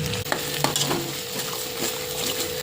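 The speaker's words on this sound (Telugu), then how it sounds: "మనం పట్టుకున్న పేస్ట్ మొత్తం ఇలా నూనెలో అయితే ఉడికించుకోవాలి తర్వాత ఇందులో పసుపు వేసుకొని కలుపుకోవాలి" Spice paste cooking in hot oil with turmeric stirred in for a village-style fish curry: a steady sizzle with a spoon scraping and clinking against the pan at close range.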